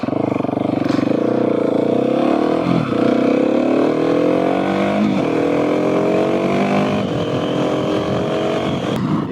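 A Husqvarna 701SM supermoto with a Leo Vince Nero exhaust, its engine loud and close, pulling through repeated rising revs with short dips between gear changes.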